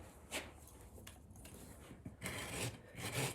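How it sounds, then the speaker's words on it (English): A farrier rasps a horse hoof flat at a shoeing contest, giving a close, gritty scraping with uneven strokes that grow denser and louder toward the end, with no talking over it. "it'll be easy to rasp that flat"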